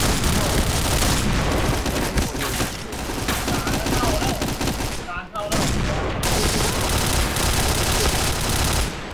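Relentless gunfire from the Point Blank shooter game: dense, loud bursts of automatic rifle fire and booms that fill the whole stretch, with only a brief dip in the middle.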